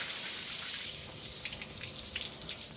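After pressure washing, water runs out of a hatch on farm equipment as a soft, continuous trickle and splash, fairly faint and close, with scattered drips and no voices.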